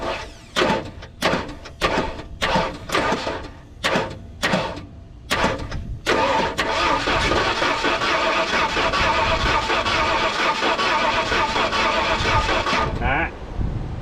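A 1974 vehicle cranks repeatedly in rhythmic bursts, catches after about six seconds and settles into a loud, steady idle heard up close, with brief talk.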